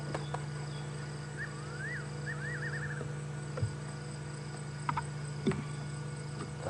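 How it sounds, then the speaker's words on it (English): Crickets chirping at night in the African bush during a safari drive, a faint steady insect drone with scattered trills, a short warbling bird call early on and occasional soft knocks nearby. "You can hear more crickets."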